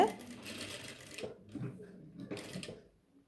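A sewing machine stitches the neckline edge of a yoke-style nighty in two bursts of rapid mechanical whirring, the second shorter, with a brief pause between and some nearby voice alongside.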